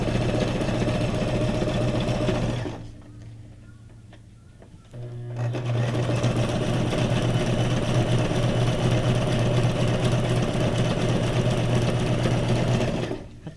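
A sewing machine stitching paper tags for junk journal crafting, running in a loud steady whir, pausing briefly for a couple of seconds, then starting up again and running continuously to the end.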